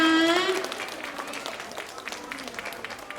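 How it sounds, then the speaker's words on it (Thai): A crowd applauds at a children's award ceremony for a mathematics test, steady clapping that follows a voice and continues for several seconds at moderate loudness. "ขอเสียงปรบมือด้วยนะคะ"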